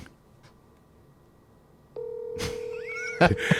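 Telephone keypad tones dial a number on a phone held up to a microphone on speakerphone, a steady tone starting partway through with a burst of dialing beeps near the end, fairly loud and alone.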